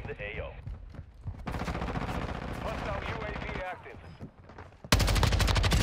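Full-auto gunfire from the Warzone video game bursts in as a loud, rapid stream of shots at the end, after a stretch of dense in-game sound and background noise.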